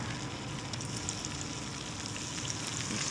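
Coral trout fries in butter in a dense, continuous sizzle and crackle, close and steady throughout, with no voices.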